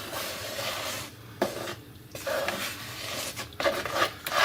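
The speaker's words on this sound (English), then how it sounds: "We're going to give it a quick mix." Coconut milk mixed into batter for dadar gulung, heard as soft rhythmic rubbing and scraping strokes in a bowl, quiet and close, in short bursts with brief pauses.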